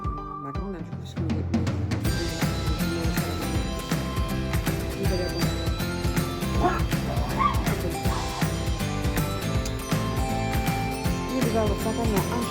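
Dogs yip, whimper and bark in repeated short bursts, close by, with voices talking in the background.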